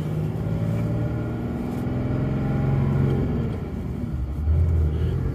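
A 2017 Dodge Ram 3500 with a Cummins diesel and manual gearbox pulls away in second gear, its low engine rumble steady and close from inside the cab, swelling briefly near the end.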